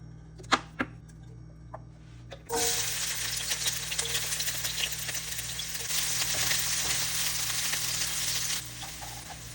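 Onion, garlic, ginger and tomato hit hot oil in a pan for Filipino ginisang monggo, with a few clinks first and then a loud, steady sizzle that holds to the end.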